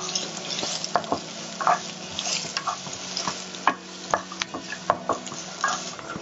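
Grated ginger and mango sautéing in oil in a pan with peanuts, green chilli and curry leaves, a steady sizzle broken by frequent close spoon scrapes and taps as the mixture is stirred, no voices.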